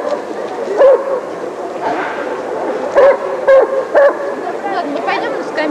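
Great Danes bark at a dog show in Saint Petersburg, several short loud bursts of barking spaced over a few seconds against a busy background, with people talking nearby.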